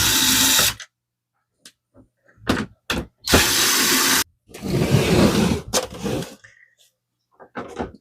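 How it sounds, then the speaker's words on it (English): A Phillips screwdriver works screws out of the back of a Canon TS3720 printer, giving several short close bursts of scraping and whirring separated by quiet gaps. "we're going to need a Phillips head screwdriver. And first, let's remove the screws in the back."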